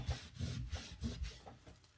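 Rhythmic rubbing of sandpaper on wood, about six back-and-forth strokes in a steady rasping pattern, close and fairly quiet.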